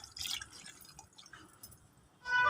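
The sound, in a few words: water being poured onto soaking tamarind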